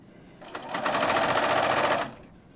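A sewing machine stitches a seam in one steady burst of about a second and a half, its rapid needle hammering close and loud, starting and stopping abruptly with quiet on either side.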